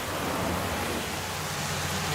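Heavy rain downpour at a gas station, a steady dense hiss of falling water with a low rumbling undertone, constant and fairly close, with no voices.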